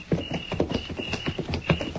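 Horses' hooves clip-clop in a brisk, uneven rhythm, close and moderately loud, as a sound effect in a 1950s Western radio drama.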